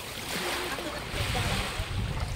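A bangka boat's motor rumbles steadily on open water, with wind and splashing in the background, growing a bit louder partway through.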